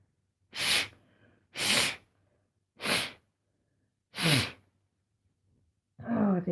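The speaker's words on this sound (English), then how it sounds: "I'm just gonna blow my nose because I'm bunged up" Four forceful nose blows from a person congested with a cold, close to the microphone, evenly spaced with silent pauses between them, followed by someone starting to speak.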